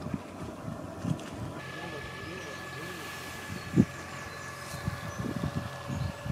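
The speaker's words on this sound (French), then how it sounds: "Et le bateau opère son demi-tour." A boat's engine hums steadily as it turns around on the Erdre river in Nantes, with wind noise across the microphone and a few brief knocks over the low drone.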